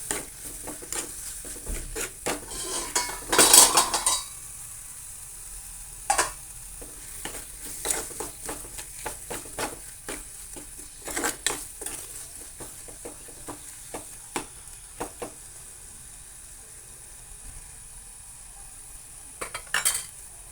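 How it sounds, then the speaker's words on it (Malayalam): A spoon stirs and scrapes chili powder masala in a pan for fish curry, giving intermittent soft clinks and scrapes over a faint sizzle, with one louder burst of scraping early on. "ഒരു ടീസ്പൂൺ മുളകും പൊടി നന്നായിട്ട് മിക്സ് ചെയ്യാം."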